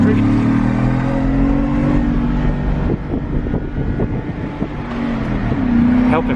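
A Honda S2000 drives down a street, its engine droning steadily with a rising and falling tone, a passing roar blended with wind noise, heard close.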